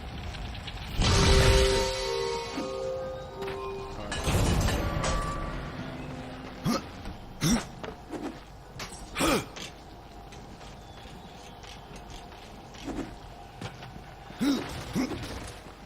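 A door mechanism activates in Darksiders 2, with heavy grinding and creaking at first, then a string of sharp clanks and ratcheting clicks spaced over several seconds.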